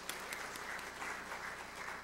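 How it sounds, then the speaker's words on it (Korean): A church congregation applauding during a Sunday service, with steady, moderately quiet clapping from many people heard from a short distance. "우리 새해를 주신 주님 앞에 우리 한번 영광의 박수 올려드리겠습니다."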